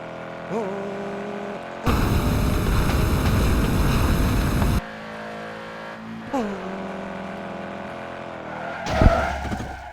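Car driving and crashing in the game Estate Agent Simulator, with a loud engine roar that starts suddenly, holds for about three seconds and cuts off, then a short engine rise and a sharp impact near the end, with a voice talking over it.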